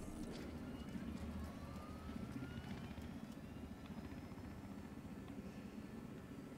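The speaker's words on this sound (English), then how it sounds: "Executive helicopter then now." Executive helicopter in the video game Battlefield Hardline, a steady faint rotor and engine drone with a thin whining tone, no talk.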